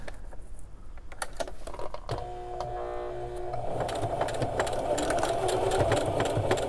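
A sewing machine stitches a bridle bag in short bursts, running forward then backward to lock the stitch, its motor whirring and needle clattering close by, with a few clicks and handling knocks between runs.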